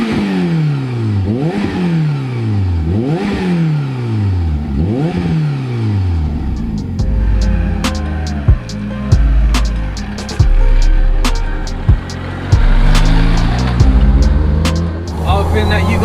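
340bhp turbocharged Peugeot 106 revving hard, several rising and falling engine sweeps up close, then driving off with clatter, sharp turbo pops and bangs, and voices talking over it.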